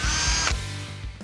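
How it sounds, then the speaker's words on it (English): A power drill whines steadily at high speed drilling holes in a metal seat bracket, then its motor winds down and spins briefly again, close and loud. "I'll use the factory bracket to mark my holes with a punch, drill them out"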